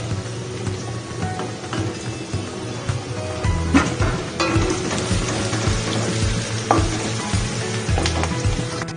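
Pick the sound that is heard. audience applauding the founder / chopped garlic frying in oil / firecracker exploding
chopped garlic frying in oil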